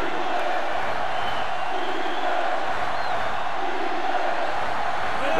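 Loud, steady roar of a sellout stadium crowd at a Michigan versus Michigan State college football game in NCAA Football 06, a dense wall of cheering and shouting that swells and never lets up.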